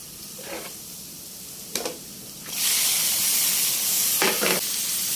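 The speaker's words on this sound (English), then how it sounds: "it will fry the garlic and pepper" Chicken liver frying with garlic and pepper in a smoking-hot pan, a loud steady sizzle that swells into a broad hiss, with brief stirring scrapes.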